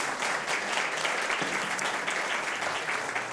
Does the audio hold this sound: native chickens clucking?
no